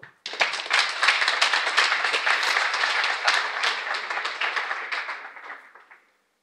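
A crowd claps steadily in sustained, dense applause for several seconds before it fades out.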